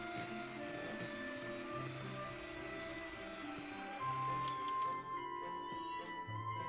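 An electric mixer whirring steadily at high speed through cake batter for a sponge cake made without leavening, a constant close buzzing hum that shifts pitch slightly partway through.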